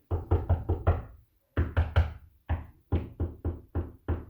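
Knuckles rap on solid wooden trim in quick groups of four and then a few single knocks, each sharp, solid and close, with no talking.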